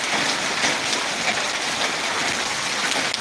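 Steady rain falls in Ariyalur, a dense, even hiss of drops on surfaces that holds constant throughout with no voices.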